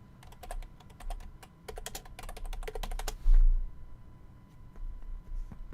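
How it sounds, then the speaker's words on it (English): A computer keyboard is typed on up close in quick bursts of crisp key clicks, with a louder thump partway through and a few scattered taps afterward, with no voices. "I'm going to type it in"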